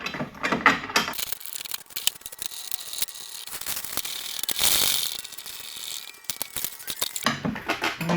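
A ratchet tightening 12 mm bolts on a Honda Civic sway bar: bursts of rapid clicking pawl strokes, close and fairly loud, with brief pauses between runs and no talk.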